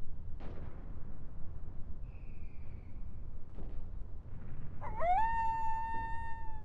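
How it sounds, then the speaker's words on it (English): A dog howls in the Final Fantasy 8 Remastered game, one long wavering cry rising then holding steady near the end, preceded by low rumbling ambience and a few dull thuds. "Dog's howling."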